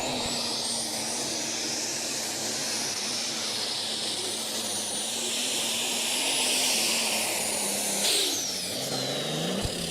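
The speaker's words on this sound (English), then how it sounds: "Oh, got a bit of a backfire there." A methanol-fuelled twin-turbo light modified tractor pulling truck roars loudly and steadily at a Putten pulling event, with turbine whine on top, until a sudden sharp pop breaks the roar near the end and another brief bang follows.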